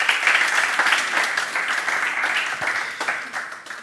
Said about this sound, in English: Let's receive him with a warm applause,